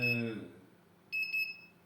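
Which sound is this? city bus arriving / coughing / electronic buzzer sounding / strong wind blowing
electronic buzzer sounding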